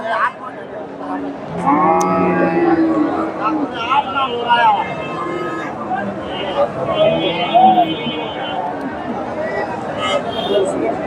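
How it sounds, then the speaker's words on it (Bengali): A large crossbred cow at a busy cattle market gives several drawn-out moos, some close and some further off, over a background of market chatter and people talking. "এখানে সুন্দর একটা গাভি দেখতেছি ক্রোধ জাতের গাভি বেশ বড় সড়ো একটা গাভি"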